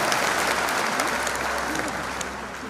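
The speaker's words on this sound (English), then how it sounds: "a big round of applause for Rose Mugadza" An audience at the launch of the Munhumutapa Challenge Cup gives sustained applause for Rose Mugadza, a dense and loud wash of clapping with no break.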